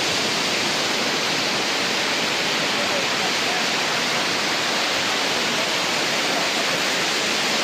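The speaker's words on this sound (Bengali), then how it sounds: "সমুদ্রে এসে ভাই ঢেউ দেখো, ওখান থেকে আসছে ঢেউটা" Sea waves break on the beach at Mandarmani, heard as a loud, constant, rushing roar that fills the whole stretch without pause.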